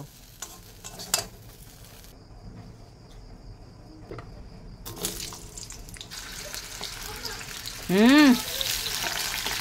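Potatoes fry in a home kitchen pan with a steady, moderately loud hiss, broken by clanks, scraping and stirring, and a short rising squeal near the end.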